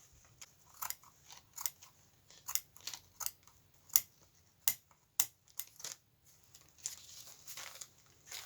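Scissors snip through fabric at a quilting and fabric art table, a run of crisp, close cuts in an uneven rhythm, some quick pairs, with small rustles of cloth in between and no talking.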